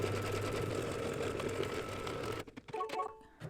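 Computerized embroidery sewing machine stitching the outside outline of a small quilted mug rug, a steady close mechanical hum and needle chatter that stops abruptly, leaving a few faint clicks.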